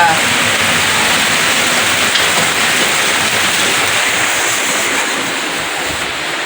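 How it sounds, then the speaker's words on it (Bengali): Heavy rain pours steadily outside a home, a dense, loud, continuous wash of splashing hiss with no break across the stretch. "কেমন জোরে বৃষ্টি পড়ছে রে বাবা"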